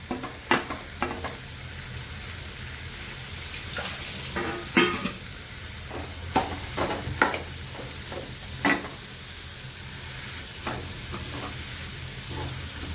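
Spring onion stir-fried in a pan of oil with dried shrimp, a continuous sizzle broken by sharp scrapes and clatters of the spatula at uneven intervals, close by, with no talking.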